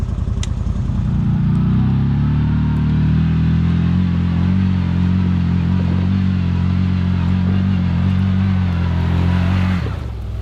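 A CFMOTO Z-Force 950 UTV engine crawling up a hill with the front end locked, a deep steady low rumble under a constant drone, close by, fading abruptly at the end, no voices.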